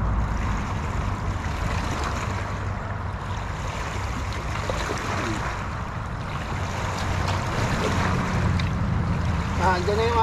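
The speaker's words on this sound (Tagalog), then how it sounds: "Andyan na yung alon." Wake waves from a passing big boat wash against a small fishing boat on open water. A steady, fairly loud sloshing and rumbling surge runs throughout, with wind.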